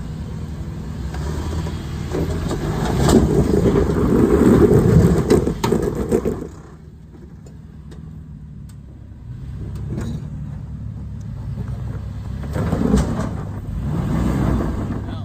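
A Toyota 4Runner off-road vehicle rumbles loudly as it revs and strains against an obstacle, then drops to a quieter idle before surging again, with a low engine drone and occasional clunks and no voices.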